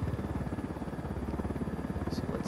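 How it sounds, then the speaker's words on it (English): Helicopter in the video game Ghost Recon Wildlands, flying low over fire-damaged La Cruz Province, with a steady rapid rotor thump and engine drone running close and continuous throughout. "So let's land the helicopter here."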